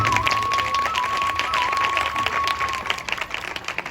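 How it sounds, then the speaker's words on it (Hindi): Loud, sustained applause and clapping from an audience at a religious speech event, filling the whole stretch with dense claps and faint crowd noise beneath. "इनके परिवार के तमाम लोगों के लिए जोरदार तालियां होनी चाहिए।"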